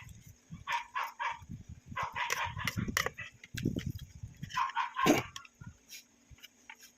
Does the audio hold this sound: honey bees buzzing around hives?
no